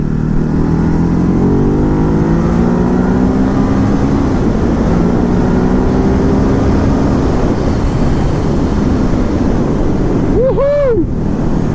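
A 2019 Ducati Hypermotard 950 motorcycle engine accelerates on a test ride, its rising harmonic drone partly buried in heavy wind rush, with a brief higher revving sweep near the end.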